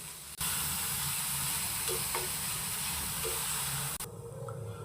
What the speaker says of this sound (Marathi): यात चिरलेला फणस ओलं खोबरं व गूळ घालून परतून घेऊ